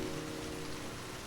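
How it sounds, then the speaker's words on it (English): Steady soft rain falling in a continuous even patter, a broadband hiss with no breaks or voices. "Outside, the rain poured steadily, its soft patter mingling with the creak of wooden beams"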